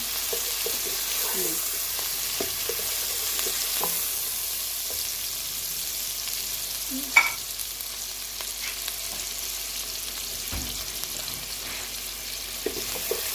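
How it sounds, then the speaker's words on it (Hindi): Washed onions fry lightly in a pan for shalgam chicken, a soft, even sizzle that stays low and continuous, with a few faint stirring clicks and knocks scattered through. "अब हल्का सा इसको फ्राई करना है।"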